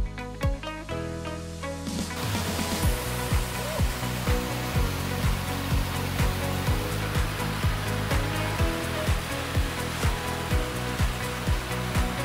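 A cool river at a glamping spot in Mindo, Ecuador, rushes in a steady, full wash of flowing water close by, continuous throughout with no talk.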